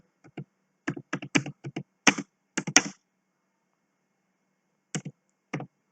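Code being typed on a computer keyboard: bursts of crisp, close keystrokes in quick runs, then a short pause and a few more scattered taps, with no talking.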